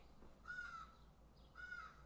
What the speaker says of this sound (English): Do you hear those crows outside?